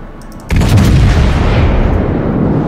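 Battleship main guns fire in the video game World of Warships, a single sudden, loud boom that breaks out of quiet and rolls on into a long, heavy rumble with no voices.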